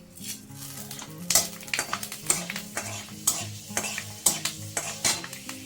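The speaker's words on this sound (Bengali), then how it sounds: "কিছুটা মেথি ফোড়ন দিয়ে দিচ্ছি।" Fenugreek seeds and a torn dry red chilli sizzle in hot oil for tempering, while a utensil clinks and stirs against the pan in quick repeated strokes.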